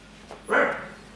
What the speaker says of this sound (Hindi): ये कुत्ता कितना भौंक रहा है